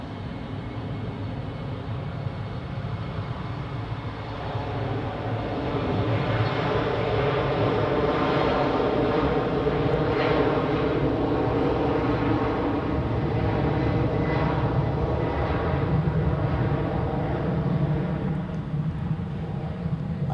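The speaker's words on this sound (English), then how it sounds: "So, another departure on runway 28, which is Austrian Airlines to Vienna." An Austrian Airlines jet bound for Vienna takes off from runway 28 at Zurich Airport, a loud, steady engine roar rising and holding throughout, heard from a distance with a broad rumbling texture.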